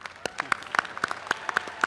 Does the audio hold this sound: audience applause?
yes